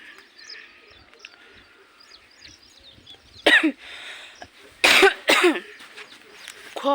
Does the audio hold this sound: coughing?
yes